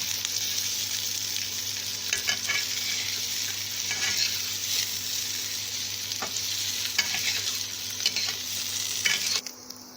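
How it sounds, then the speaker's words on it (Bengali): Small boiled, peeled potatoes frying in hot oil in a wok: a loud, continuous sizzle with scattered stirring scrapes and crackles, no voices. "এরপর আমি ছোট ছোট আলুকে দেখুন সিদ্ধ করে ছাড়িয়ে নিয়ে এবার এর মধ্যে দিয়ে এটাকে ভাজবো"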